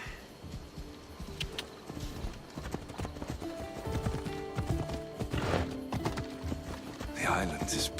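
Horse hoofbeats during a ride in the video game Assassin's Creed Odyssey, a steady clip-clop rhythm at moderate distance running under people talking throughout.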